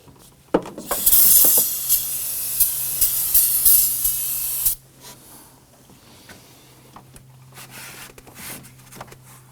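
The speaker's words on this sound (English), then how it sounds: "We're going to use some spray solvent, spray that down, wipe it down" Spray solvent is sprayed to clean leaked transmission fluid during a radiator replacement on a 2015-2024 Nissan Murano 3.5L V6, one loud close hissing burst of about four seconds, followed by quieter wiping and handling noises under a low hum.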